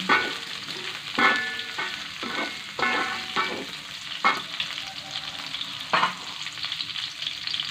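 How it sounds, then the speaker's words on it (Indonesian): Noodles with shrimp and green beans stir-fry in a hot pan, a loud continuous sizzle broken by repeated scraping strokes of the spatula, close and steady. "Diaduk terus sampai harum."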